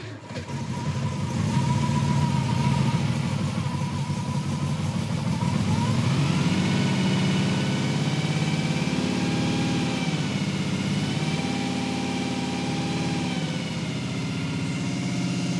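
A Chevrolet Chevelle engine runs loudly and steadily just after starting, idling high with a strong rumble and slight shifts in pitch.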